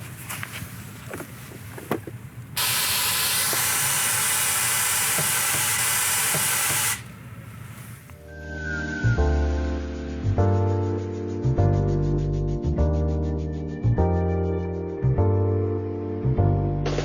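Air suspension on an articulated truck's tractor unit lifting it back to ride height: a loud, steady hiss of released air lasts about four seconds and then stops abruptly, followed by music.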